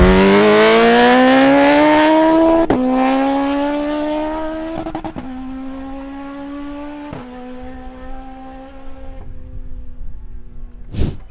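370bhp Suzuki Hayabusa motorcycle accelerating hard down a quarter-mile drag strip, the engine whining upward through several gear changes, loud at first and gradually fading into the distance.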